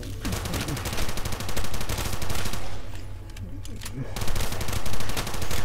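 Rapid, loud automatic fire from an AN-94 rifle in a Minecraft zombies game, sustained bursts with a brief lull in the middle before the firing resumes.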